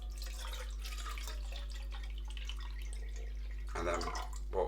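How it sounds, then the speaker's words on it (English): Water pours steadily into a 1 litre camping pot for a Fire Maple X2 Fixed Star stove, a continuous close splashing wash that shifts in tone near the end as the pour changes. "we'll put the 500 mils of water in"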